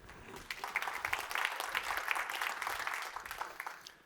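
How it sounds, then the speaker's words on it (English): Audience at a summit pitch competition in Utah applauding, a moderately distant, sustained patter of many hands clapping that holds steady for several seconds without talk. "Let's have a round of applause for this great state."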